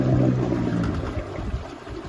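A Haswing 65 lb thrust 12 volt electric trolling motor runs at full thrust on a 16-foot Expandacraft canoe, slightly cavitating, giving a low steady hum with a faint whine over churning water.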